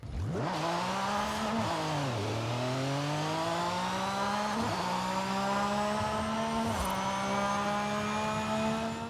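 Porsche 911 GT2 RSR race car in Forza Horizon 5, its engine revving loud and close with rising, falling pitch sweeps as it accelerates and shifts through gears, with no talk over it.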